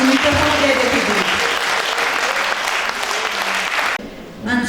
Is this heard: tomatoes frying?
no